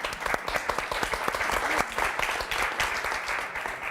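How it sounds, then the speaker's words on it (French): A French television studio audience breaks into steady applause for a young guest, a dense, lively mass of clapping hands sustained throughout at an even, moderate level. "Bravo, on va applaudir."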